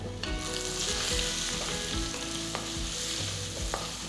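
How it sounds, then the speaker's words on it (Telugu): Mustard seeds splutter and crackle in hot oil with asafoetida, ginger and green chillies for tomato bele bath, a steady close sizzle with scattered pops throughout and no talking. "ఆవాల సౌండ్ వినిపిస్తుంది కదా"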